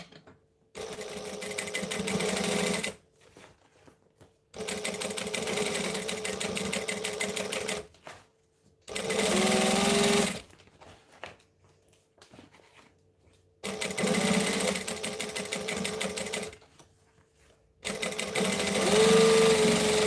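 A sewing machine topstitches a folded fabric panel in five loud, rapid bursts of needle chatter, each lasting a few seconds and separated by brief quiet pauses.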